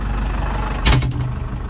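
A tractor engine runs in reverse gear, a steady low rumble with a brief louder burst near the middle, close and with no talk.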